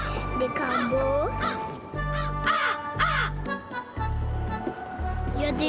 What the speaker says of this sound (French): Il y a une corneille, des corbeaux.